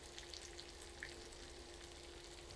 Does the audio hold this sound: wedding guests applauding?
no